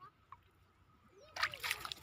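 A small child washes in an irrigation channel by a wheat field. It is quiet at first with faint voices, then a close burst of splashing and sloshing water fills the last half-second or so.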